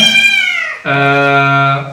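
A British Shorthair and Persian mix kitten meows twice up close and loud, a falling cry followed by a longer, steady, sustained meow.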